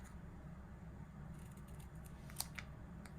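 Scissors snipping while kitting up a diamond painting cross-stitch conversion, a few quiet, close clicks and snips near the end over a low steady hum.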